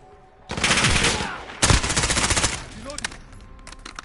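Rapid automatic bursts from a Val rifle in Call of Duty Modern Warfare, loud and close, with two sustained strings of shots and a sharp crack between them, then fading scattered shots.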